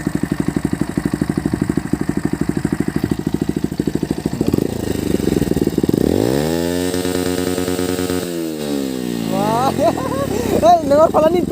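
A motorcycle engine pulls a running wheelie stunt, starting with a rapid pulsing idle, then revving up and holding high, shifting pitch and falling. The sound is loud and close, and voices are heard over it.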